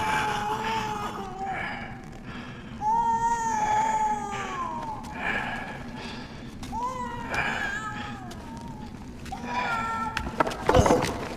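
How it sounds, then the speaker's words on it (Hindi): A young animal cub in Far Cry Primal cries in repeated wavering, meow-like wails, several drawn-out calls spaced across the moment, fairly close and clear over a low game ambience. "लगता है कि इसके बच्चे की रोने की आवाज आ रही है"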